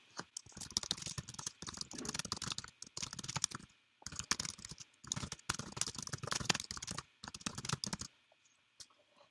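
Quick bursts of typing on a computer keyboard, close and crisp, with rapid key clatter broken by short pauses and a final few isolated taps; no talking.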